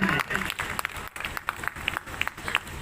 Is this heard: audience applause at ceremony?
yes